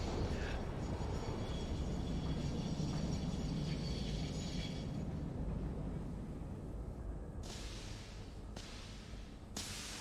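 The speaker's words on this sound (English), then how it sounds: "we've got a slight halt while a train comes through" A train rumbles through on a railway in the Railtour video game, a heavy, steady low roar close by, followed by a few sharp hissing bursts near the end.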